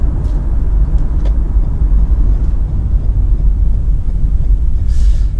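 Steady engine and road rumble from a minivan, Kia Carnival or Toyota Sienna, driving on a winding test course, heard from inside the cabin as a continuous, fairly loud low drone with no talking.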